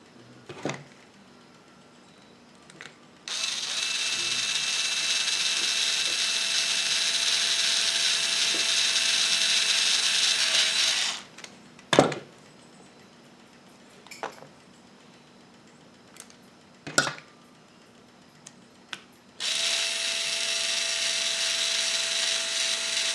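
A nut driver tightens screws on a ZD Racing DBX 10 RC car, with a close, steady whirring ratchet in two long stretches and a few sharp clicks and taps between them, with no talking.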